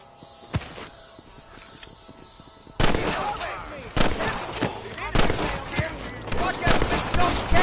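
Gunfire in Red Dead Redemption: a single early shot, then a sustained exchange of sharp, loud gunshots cracking in quick irregular succession, with voices and ambient noise underneath.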